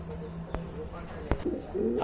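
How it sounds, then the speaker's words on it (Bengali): Beauty Homer pigeons, young birds kept in a collection of pigeons for sale, make a low soft cooing throughout, with a couple of brief sharp knocks and some faint background noise. "আর এক জোড়া বিউটি হোমার বেবি দেখতে পাচ্ছেন এখানে"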